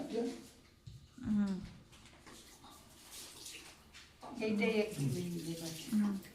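Hands washed under running water at a family gathering at home, a soft continuous splashing and trickle heard beneath several people chatting nearby.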